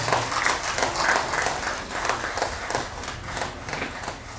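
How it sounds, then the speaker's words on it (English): Guests at a university staff club panel session keep up a round of applause, dense many-handed clapping at moderate distance, fairly soft and steady with slight pulses. "Please continue to give them that round of applause."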